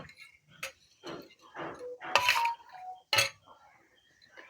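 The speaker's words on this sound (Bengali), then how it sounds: "কড়াইটা বসালাম।" A metal wok is set on a stove while cooking sambar, giving a series of separate clanks and clinks of metal on metal, two of them louder and ringing, with quiet gaps between.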